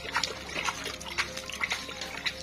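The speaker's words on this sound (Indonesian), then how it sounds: "saya siram dengan air hujan seperti ini" Fresh rainwater is poured by hand onto garden plants, making close splashing and trickling that comes in uneven spurts with no talking.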